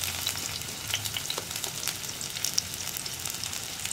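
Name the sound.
crushed ginger and shallots frying in coconut oil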